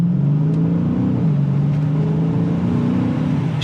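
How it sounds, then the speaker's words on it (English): A Dodge 392 Scat Pack with a HEMI V8 pulls away from a green light, its engine droning steadily from inside the car as it accelerates, the pitch holding then dipping briefly at a shift before climbing again, with no talk. "It sounds like a classic HEMI V8, and I like that."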